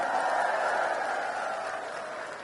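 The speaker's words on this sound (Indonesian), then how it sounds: "tepuk tangan untuk seluruh relawan." A large crowd applauds and cheers for volunteers at a political rally in DBL Arena, Surabaya, a dense, steady wash of clapping filling the hall and fading slightly toward the end.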